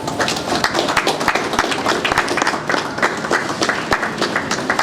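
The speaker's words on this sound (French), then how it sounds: "je peux vous prier de l'applaudir" A large audience applauds at a university medical laboratory inauguration in Kinshasa, a dense, steady wash of many hands clapping at close range with sharp individual claps standing out, and almost no talk over it.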